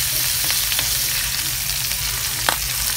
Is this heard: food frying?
yes